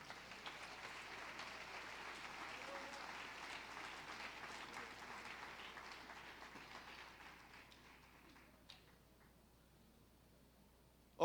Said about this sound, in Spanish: Aplauda a Jesús de Nazaret.